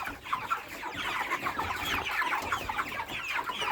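A flock of broiler chickens clucking continuously, many overlapping soft calls close by, with no talking.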